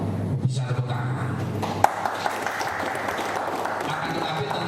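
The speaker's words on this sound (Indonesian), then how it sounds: "Bisa tepuk tangan." A crowd applauds in a steady wash of clapping, with a few sharp pings cutting through and a voice briefly audible underneath.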